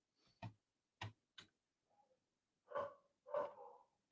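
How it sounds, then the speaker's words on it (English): A dog barking somewhere distant and faint, a few short sharp barks spaced apart, then two louder, fuller barks near the end, with silence between them. "Dogs again."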